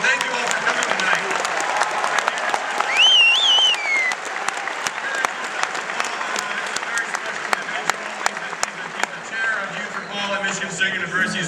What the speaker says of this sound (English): So give yourselves a round of applause, and thank you all for coming tonight.